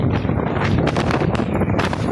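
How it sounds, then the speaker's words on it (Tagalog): Strong wind buffets the microphone during a motorcycle ride on town roads, giving loud, gusty rumbling and rushing bursts throughout. "Oh, lakas ng hangin."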